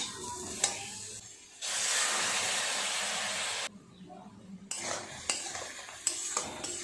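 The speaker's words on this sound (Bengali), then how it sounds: "মশলাটা একটু নেড়ে চেড়ে নিয়ে দিয়ে দেবো সর্ষে আর কাঁচা লঙ্কার যে পেস্টটা বানিয়েছি" Spices and salt sizzling in hot oil in a pan while being stirred for a Bengali hilsa fish curry with eggplant and potato, with spoon scrapes and a loud steady fry burst in the middle, no talking.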